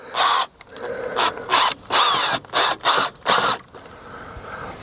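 A power drill drives small 20mm screws into a gate latch on a garden fence, whirring in six short bursts of rising and falling pitch separated by brief pauses, loud and close with no voices.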